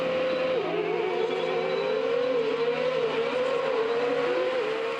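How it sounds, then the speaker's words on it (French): Autocross race cars at the Saint-Georges circuit, a sustained engine drone with the pitch wavering as cars rev and shift, loud and continuous with no talking. "Ces bruits de moteur, on les entend depuis bien longtemps ici, sur le circuit d'autocross de Saint-Georges."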